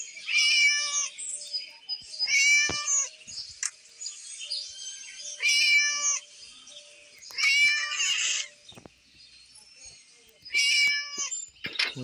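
A cat in a mobile video game meows repeatedly in short bursts, about five or six loud cries spaced across the stretch, with faint bird-like chirps in between and no talking.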